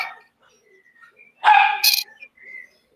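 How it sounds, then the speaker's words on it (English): A dog lets out a loud, close burst of barks lasting about half a second in a quiet indoor room, with faint voice sounds before and after. "Our dogs are going to start talking to each other."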